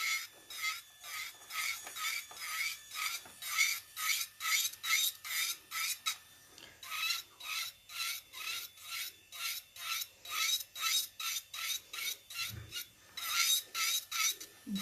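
An electric nail file buzzes in rapid, regular strokes against nails, each pass a short rasping burst repeated steadily and close up, with a few brief pauses.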